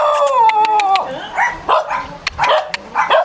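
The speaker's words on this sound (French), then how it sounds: "je ne sais pas si je vais me refaire manger, attaquer par les chiens, j'espère pas" Dogs bark and yelp in a rapid run of short bursts, close by and fairly loud, with a drawn-out whining howl at the start.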